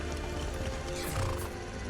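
Horse neighing in the video game Skyrim, a whinnying call standing out over a steady, fairly loud background of game sounds for about two seconds.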